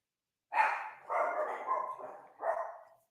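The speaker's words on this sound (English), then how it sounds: "There's my dogs." Small dogs, a Pomeranian and a Shih Tzu, bark in four quick yappy bursts at moderate distance, with no talk over them.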